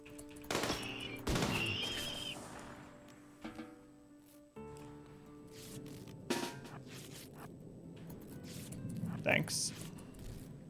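Scattered gunfire in the RimWorld colony-building game, sharp bursts spread over several seconds among other game sounds, not very loud, with no talking over them.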